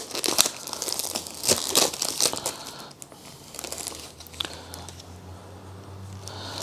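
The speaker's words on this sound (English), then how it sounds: "It is a wooden box. Let me just open this up a bit." Crinkly rustling and light scraping come up close as a wooden box from an ultra limited edition Kung Fu Hustle set is opened, with short crackling bursts that ease into quieter handling.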